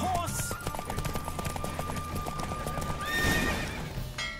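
A galloping horse in a race in The Witcher 3 video game, with rapid continuous hoofbeats, a whinny and other game sounds layered on top.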